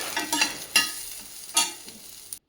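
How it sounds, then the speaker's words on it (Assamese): Bitter gourd stir-frying in a pan at home, a steady sizzle broken by several sharp bursts of crackle as the pieces are stirred, close and fairly loud, with no talking. "ভাজিছোঁ"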